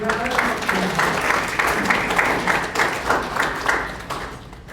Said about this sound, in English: Let's give Team Bombay 1 a big round of applause.